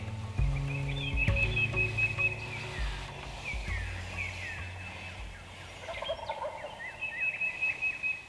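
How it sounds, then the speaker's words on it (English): Wild turkey toms gobbling from a roost near farm fields and pasture, several distant rattling gobbles mixed with other bird calls over a steady outdoor background. "The guys heard a lot of gobbling from the roost"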